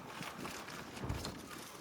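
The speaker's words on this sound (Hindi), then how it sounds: "इतनी तेज़ हवा चल रही है" A strong, cold wind blows outdoors in a garden, buffeting the microphone with a continuous rough rush and a brief low gust near the middle.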